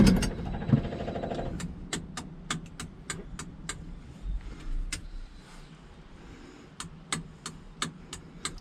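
A car starter cranks an engine fitted with FiTech fuel injection, giving a strained, irregular run of repeated sharp clicking pulses, fairly close, with no talk over it.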